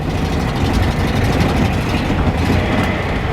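Close, steady idle of a Datsun 240C engine with bad exhaust leaks: a continuous low rumbling drone with a slight rhythmic pulsing and no talking.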